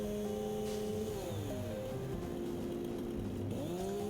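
A chainsaw cuts wood in the video game Satisfactory, a steady buzzing engine drone with shifting pitch bends and whines as the blade bites in, continuous and fairly close throughout, with no talking.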